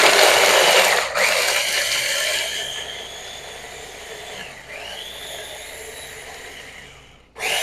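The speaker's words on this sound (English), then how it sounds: "All right, and then we're going to blend it." A blender whirs loudly as it purees garlic scape pesto with salted seeds, a steady grinding roar that briefly cuts out near the start and again at the end before surging back.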